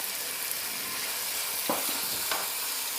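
Capsicum being stirred into chicken pasta in a hot pan: a steady broadband sizzle fills the clip, with a couple of soft scraping stir strokes near the end and no voices.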